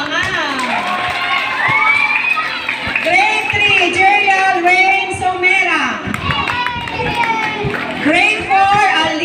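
Schoolchildren in a crowd cheer and shout excitedly during an announcement of grade-level school officers, with a loud announcer's voice speaking over the steady din.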